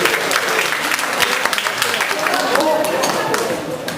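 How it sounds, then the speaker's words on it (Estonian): An audience applauds at a festive gathering, loud close clapping that runs continuously with crowd murmur mixed in. "Aplaus teile kõigile."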